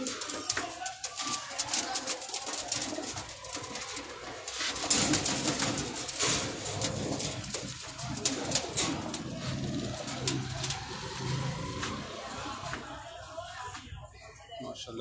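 Pakistani pigeons coo softly in the background amid rustling and outdoor noise, with someone talking over them throughout.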